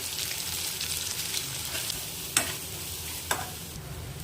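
Spoon stirring sambar in a pan after tempering and adding homemade sambar powder, a steady frying sizzle with two sharp scrapes or clinks against the pan, no voices.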